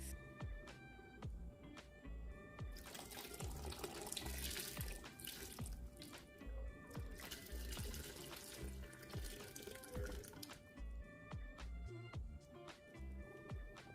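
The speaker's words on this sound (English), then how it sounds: "just put a little water in it so that when it goes into the pot, it doesn't stick together" Tap water runs into a sink or container to dissolve an ingredient for a cooking mix in a home kitchen, a steady close splashing stream with faint dripping throughout and no talk.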